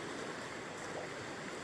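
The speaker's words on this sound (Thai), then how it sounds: "พอเวลาน้ำเต็มนะครับคลื่นก็เริ่มที่จะรุนแรงขึ้นนะครับ" Strong sea waves rolling ashore at Satun, Thailand, during Storm Pabuk, a steady unbroken wash of surging water heard at a distance with no voices.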